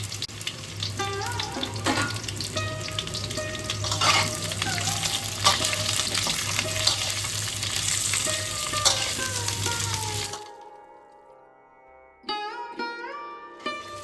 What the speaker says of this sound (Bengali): সবজিগুলো খুব ভালো করে আমার ভাজা হয়ে গেছে